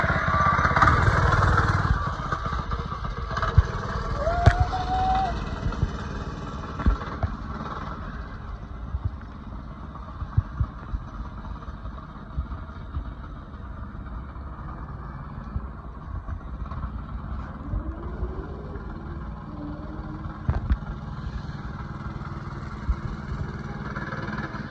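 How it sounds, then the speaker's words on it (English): A mini dirt bike motorcycle is ridden, its small engine buzzing loud at first and then droning steadily farther off, with scattered clicks and bumps throughout the ride. "that was a clip of me riding a dirt bike"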